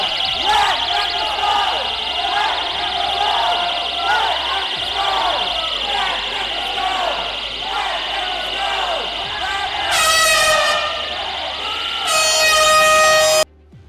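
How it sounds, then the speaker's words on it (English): Loud air horns blare in short repeated blasts over a noisy crowd with voices and shouting at a Tennessee legislative session, the horn bursts coming in bunches near the end. "So again, they're bringing in air horns."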